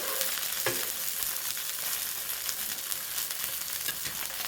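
Chicken burger patty frying in a pan after being flipped, with a steady close sizzle and crackle that holds at an even level throughout, no voices present.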